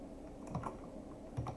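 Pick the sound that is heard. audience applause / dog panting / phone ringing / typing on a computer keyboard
typing on a computer keyboard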